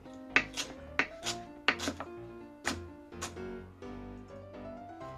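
A knife chops quietly in irregular sharp taps against a board, with a soft tonal hum in the background.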